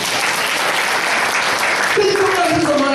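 A church congregation claps together, loud, dense and sustained applause filling the hall close by, with voices mixed in near the end.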